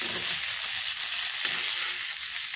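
Sliced eggplant frying in a pan, a continuous soft sizzle with faint stirring underneath, even and close.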